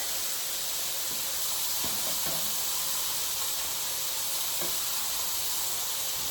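Shallots sizzle in a hot skillet, a continuous bright crackling hiss held close and steady throughout, with a few faint clinks of utensils.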